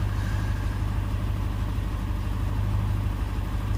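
A Jaguar XJ12 Series 3 engine idles steadily, with a low, even rumble that holds unchanged for a few seconds at moderate volume and no voices over it.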